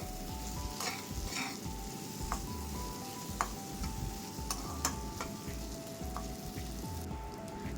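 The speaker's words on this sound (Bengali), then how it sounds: "কাজু কিশমিশও চাল ডালের সাথে খুব ভালো করে মিশিয়ে নেব" Rice, dal, cashews and raisins are stirred and scraped in a sizzling pan for Bengali potol muri ghonto, with a constant fry hiss under repeated close spoon scrapes and occasional sharp clinks against the pan.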